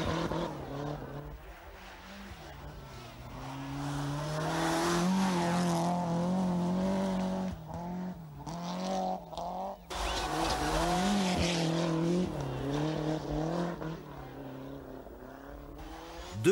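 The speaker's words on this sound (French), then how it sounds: "La traction intégrale et la conduite sur neige avec des pneus cloutés." Rally cars on studded tyres race over snow at the Monte Carlo Rally, a continuous loud engine roar with rising and falling revs and gear changes, tyre noise hissing beneath, sustained throughout.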